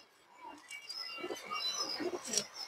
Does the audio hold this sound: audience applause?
no